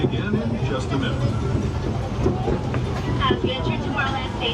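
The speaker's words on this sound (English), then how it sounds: "As we enter Tomorrowland Station, we ask you to remain seated until the train comes to a full stop." The Disneyland Railroad train rolls steadily along its tracks with a constant close rumble and faint rhythmic clacking, while a voice talks over the running noise.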